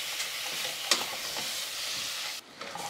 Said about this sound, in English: So just cook and stir until the fish pretty much turns white.